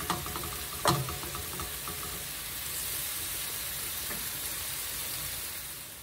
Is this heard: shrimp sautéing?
yes